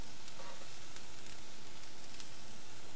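Soy sauce hits a hot pan of curry powder and sugar, giving a loud, continuous sizzle and fry with faint stirring scrapes, close up and without speech.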